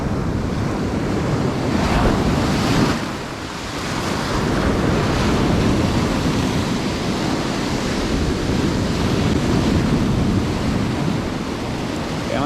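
Strong wind buffets the microphone by the sea during a fishing trip, a loud continuous roar with rising and falling gusts and surf washing underneath.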